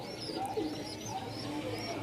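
Soft cooing of pigeons close by at a pigeon market, with a few faint chirps over a low, steady background.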